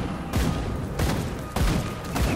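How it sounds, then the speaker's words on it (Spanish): Gunfire in the dark-fantasy action game Grim Dawn, loud booming shots fired in a steady rhythm about every half second to second, each a sharp blast with a rumbling tail. "Se nota que disparo más deprisa y me gusta disparar rápido."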